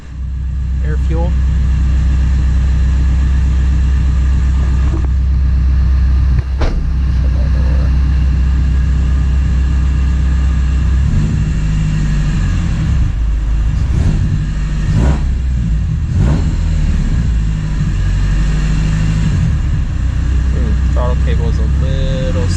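A car engine idles steadily after a restart, a loud low drone with occasional small rises in revs while someone talks over it close by.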